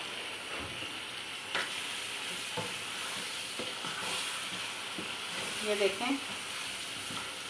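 Haleem frying with haleem masala in a pot, giving a steady close sizzle and hiss with occasional stirring clinks, while someone speaks briefly.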